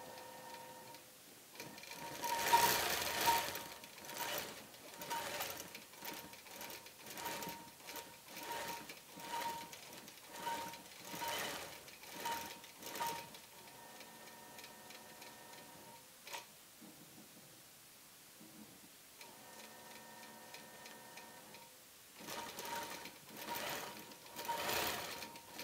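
A Statler computerized quilting machine stitches a quilt with tan thread, its needle running in quick, steady mechanical bursts with short pauses between passes, close and moderately loud with no talking.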